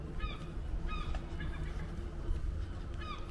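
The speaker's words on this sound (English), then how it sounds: "Sound of seagulls in the background." Seagulls call in the background of a back street lined with small pubs in the seaside town of Blackpool, several short bright cries repeating over a steady low rumble of traffic and crowd murmur.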